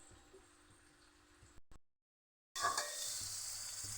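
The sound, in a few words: vegetables frying for dal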